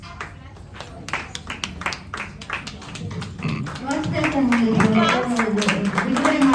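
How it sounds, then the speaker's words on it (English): An audience at an event claps in a loose series of distinct hand claps, then a voice talks and chatter rises while clapping continues underneath. "With a big round of applause to introduce the prospects"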